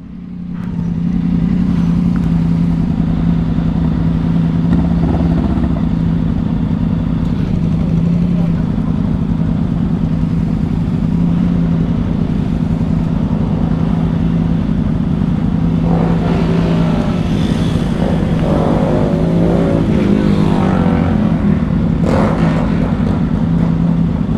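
About twenty motorcycles idle together in a street convoy, a steady low engine drone running throughout with occasional revs rising near the end, while people talk over it.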